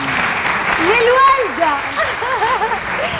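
Audience applause in a television studio: steady broadband clapping runs throughout while a voice speaks and hums in a rising and falling, sing-song way over it.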